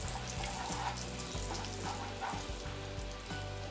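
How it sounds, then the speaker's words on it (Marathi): Cauliflower masala sautéing in a pan with red chilli powder, a continuous bright sizzle with soft repeated stirring knocks and scrapes, close and steady, no voices. "थोडं परतवून घ्यायचं"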